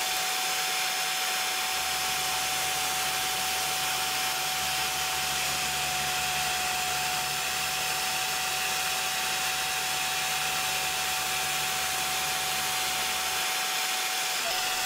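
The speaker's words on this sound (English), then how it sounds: "the vacuum is finally on automatic mode" A dust vacuum on a CNC machine switches on automatically during a test cut, a steady droning whine starting after a second and running evenly before cutting off near the end, alongside a faint high tone.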